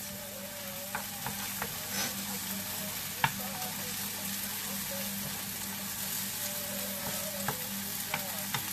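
Garlic frying in a pan for a seafood paella, a steady close sizzle with faint ticks and occasional spatula taps, no talking.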